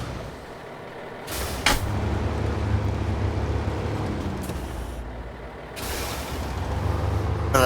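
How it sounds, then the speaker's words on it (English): Truck being parked in SnowRunner in Alaska: a low diesel engine idle rumbles steadily, broken by two sharp hissing air brake releases, loud and close with no talk. "I may not have picked the best spot to park that truck."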